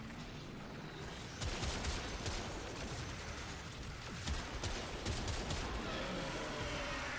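Gunfire in the video game Warframe, aimed at headshots: dense, quiet rapid shots forming a continuous crackling barrage with sharper cracks standing out, with no talking.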